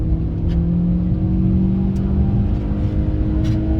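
A loud car engine drones and pulls steadily under load from inside the cabin, a deep continuous rumble with a rising hum.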